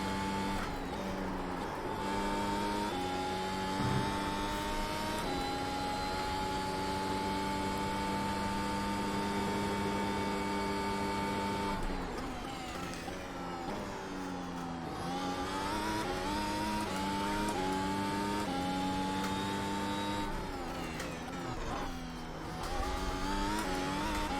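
A Formula 1 car in a racing video game laps Oulton Park, its high-pitched engine whining continuously and rising and falling through gear changes and corners, loud and alone with no talking.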